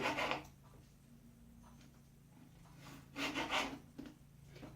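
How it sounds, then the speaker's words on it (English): A lemon peel is scraped with the flat back of a kitchen knife, giving two bursts of rough, close scraping, one at the start and a longer one later, over quiet room hum. "I take the back of the knife so it's flatter, and I get all the juices I can"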